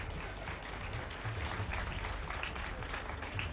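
A crowd at a political rally in India claps continuously, a dense, even wash of many hands with scattered sharper claps standing out, sustained for several seconds with little talk.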